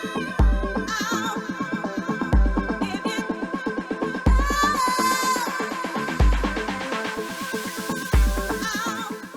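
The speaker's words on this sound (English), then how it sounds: "the first option for almost all kick patterns is always with one click on every" A Traktor Pattern Player kick drum pattern thumps once every four beats, with each deep hit cutting through a busy looping electronic track. The kicks are loud and evenly spaced.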